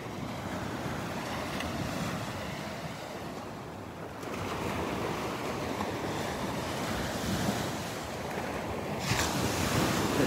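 Ocean waves wash steadily onto the beach at Delnor-Wiggins Pass State Park in North Naples, Florida, on a morning walk: a continuous broad surf roar with a soft swell midway and faint wind buffeting the microphone.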